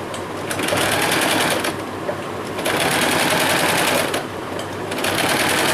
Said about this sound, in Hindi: अब यहाँ इसको पकड़ के इसकी मैं हाफ तक यहाँ सिलाई लगा लूँगी।